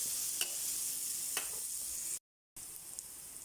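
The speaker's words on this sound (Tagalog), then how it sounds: "Magigisa na po tayo para sa ating pork pickles. Bawang. Margarine na po yan, nilagay ko na po." Garlic sautéing in melted margarine in a pan, a faint even sizzle with two soft stirring clicks, broken by a short dropout of silence before the frying hiss resumes.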